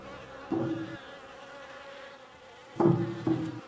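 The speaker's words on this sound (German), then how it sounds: "Ach, wir gehen durch die Mücken durch, hä?" A swarm of mosquitoes buzzes steadily in the video game The Fidelio Incident, a faint continuous whine with louder bursts of noise breaking in twice, and no voices.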